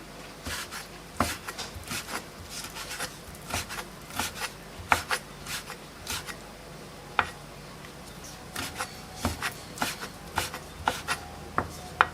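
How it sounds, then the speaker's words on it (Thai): A knife slices ripe banana peel on a cutting board in a home kitchen, giving irregular soft taps and short scraping cuts, close and quiet, with pauses between strokes. "เราจะหั่นกันนะคะ"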